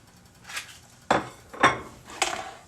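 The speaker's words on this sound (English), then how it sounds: "let's add in our onions and our yellow and orange peppers in" Onions with yellow and orange peppers tipped into a chili pot, giving four clattering knocks and clinks of a utensil on the pot at uneven intervals, close and moderately loud.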